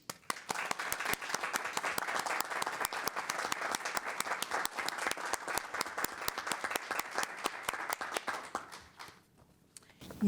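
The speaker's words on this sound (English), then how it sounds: "Please join me in a round of applause to thank Dr. Wirtz" A room full of people applauds at an Arlington ISD board of trustees meeting. The clapping is dense and sustained, then thins out and fades near the end.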